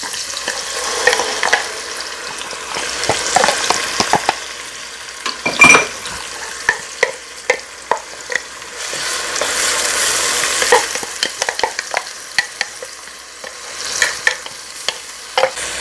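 Blended peppers and chopped onion fry for egusi soup, a steady sizzle running throughout with frequent sharp clicks and scrapes of a spoon stirring in the pan.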